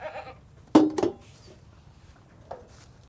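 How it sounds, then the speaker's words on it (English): Dairy goats on a farm give a couple of short bleats during milking, alongside sharp clanks and faint background noise. "All right, we're on our last goat here, Ginny."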